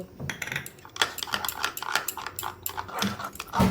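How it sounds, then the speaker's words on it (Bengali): A spoon stirs milk powder into milk in a bowl while making carrot payesh, scraping and clinking against the bowl in a quick, irregular run of close, clear taps. "আমি এই বাটিতে 3 চামচ গুঁড়ো দুধ নিয়েছি, সেটা এই দুধের সঙ্গে মিশিয়ে দেব।"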